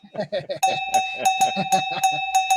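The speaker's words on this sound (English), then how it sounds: "That's my little bell." A small bell rings with a sustained bright tone beneath people talking, its clear ringing held steadily while voices continue over it.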